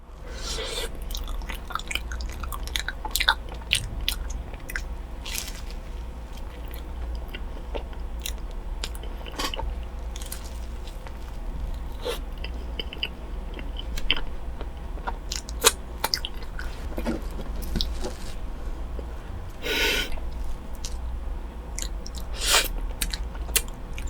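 Close-up eating of a Nutella waffle topped with banana and fresh whipped cream, with repeated soft bites, squishy chewing and occasional crunches in an irregular rhythm, no talking.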